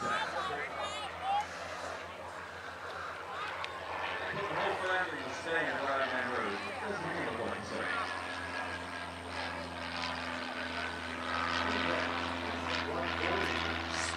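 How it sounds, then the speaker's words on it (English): Propeller airplane flying over the New Garden airshow, a steady droning engine hum that swells and fades as it passes, heard under an announcer's speech and crowd noise. "That airplane was wing wagging."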